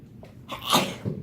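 A single close sneeze, a short intake followed by a sharp burst, with a brief faint sound after it.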